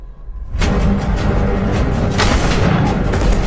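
A car crashes and explodes in a film scene: a loud, sudden boom erupts after a brief quiet start, then a dense, sustained rumbling roar continues to the end.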